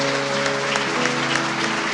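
Congregation applause during a church sermon, a broad steady roar of clapping layered over sustained musical tones underneath, even in loudness from start to finish.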